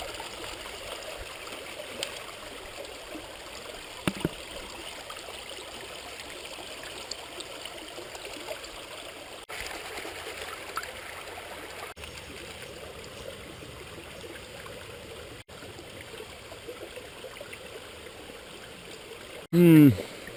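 Water runs and trickles steadily in a stream in Lancashire during gold panning, a continuous outdoor flow that holds throughout, with a brief louder splash near the end.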